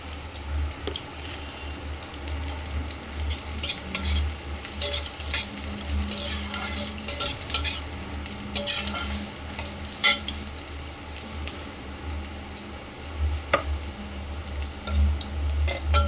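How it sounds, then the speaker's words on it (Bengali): Dried red chillies, cardamom, cloves, cinnamon, peppercorns, bay leaves, cumin seeds and onion fry in oil in a pan. A steady quiet sizzle runs throughout, broken by scattered clinks and scrapes of stirring, with no talk. "শুকনো লঙ্কা, গোটা গরম মশলা, এলাচ, লবঙ্গ, দারুচিনি, গোলমরিচ, তেজপাতা আর গোটা জিরে দিয়ে দিলাম। এবার এখন ভালো করে ভাজা যাবে।"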